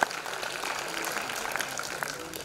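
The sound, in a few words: audience applause for the senior citizens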